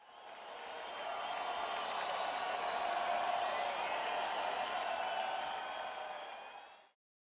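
A cheering crowd applauding, steady massed clapping and cheers swelling in and holding evenly for several seconds before cutting off abruptly, moderately quiet.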